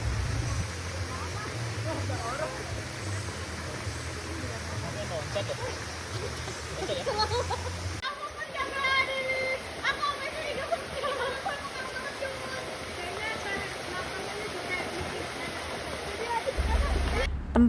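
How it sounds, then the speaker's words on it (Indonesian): The Kembang Soka waterfall in Kulon Progo, Yogyakarta, roars as a steady, dense rush of falling water. It holds even across the whole stretch, and a voice speaks faintly in places over it. "Tempat yang kami kunjungi ini merupakan salah satu air terjun yang ada di Kulon Progo, Yogyakarta"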